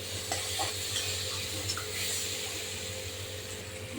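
Potatoes being stirred through spice paste in a pan for a spicy Bombay duck curry, a soft steady scraping and low sizzle with a few light spatula knocks, close by and with no talk.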